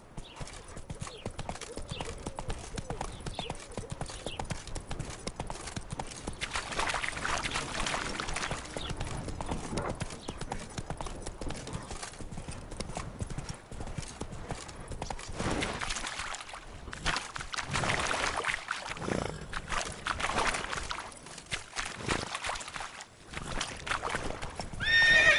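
Video-game horse Roach's hooves clip-clop at a steady galloping rhythm with repeated neighs and whinnies over a constant hiss of game ambience, all fairly loud and close.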